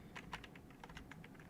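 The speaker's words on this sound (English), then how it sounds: "I'm using a new keyboard actually" Typing on a new computer keyboard, a quick irregular run of light key clicks over a quiet background hum, close but soft.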